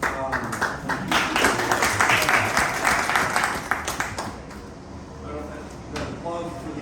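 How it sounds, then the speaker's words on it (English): Audience applause at a data governance talk welcoming a speaker after his introduction, a dense steady clapping from a roomful of people that fades after about five seconds into quieter room noise. "applause for the intro or for what I'm about to deliver"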